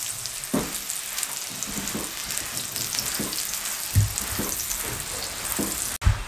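Besan missi roti fries in ghee on a pan, giving a continuous crackling sizzle with scattered pops and soft spatula scrapes, close and moderately loud with no talk.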